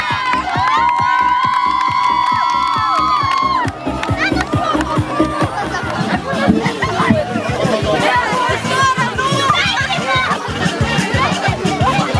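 A crowd of adults and children shouts and cheers at an Ivan Kupala bonfire festival, with loud overlapping voices, rhythmic chanting and babble throughout, plus a few high sustained calls near the start.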